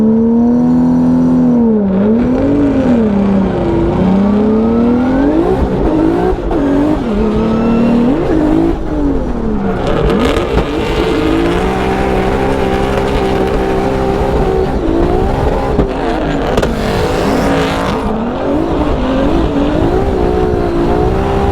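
A race car at a Formula Drift event in Utah roars continuously at full throttle, its engine note climbing and dipping with hard revving and tire squeal. The sound is loud, close and unbroken, with no talk.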